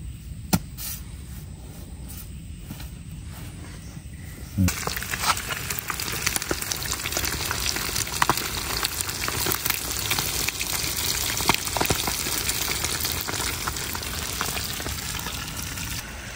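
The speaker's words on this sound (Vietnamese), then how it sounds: "Này cá chiên nè, cá chiên rồi" Fish fries in a pan over a wood fire outdoors, a steady loud sizzle and crackle that thickens after a few seconds and continues unbroken with no talk.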